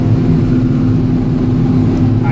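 A John Deere 7800 tractor's engine runs while chisel plowing, giving a loud, steady low drone heard from inside the cab that stays constant throughout.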